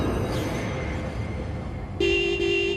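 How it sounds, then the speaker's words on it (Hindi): A car horn sounds in a steady tone at about two seconds, sustained with a short break, cutting over muffled street and engine background. "अरे इतनी देर से हॉर्न बजा रही हूँ"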